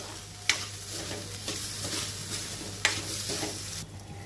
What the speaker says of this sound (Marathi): आता एक 2 ते 3 मिनिटं आपण भगर आणि ही काकडी मिरची छान परतून घेणार आहे.